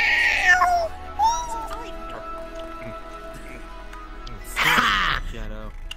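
A cat meows inside the VRChat virtual world: a bright, drawn-out meow opens the clip, a shorter one follows, and a louder, harsher cry comes near the end, with voices in between.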